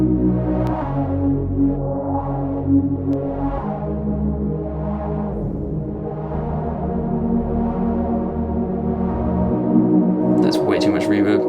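Broad, wide-spread unison synth chords drenched in heavy reverb, sustained pads shifting through several changes with a long washy tail, steady and loud, with a bright noisy burst near the end.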